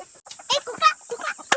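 On a farm in Maharashtra, a rooster gives a string of short, fairly close clucks in an uneven rhythm, with light background noise and a little speech around it.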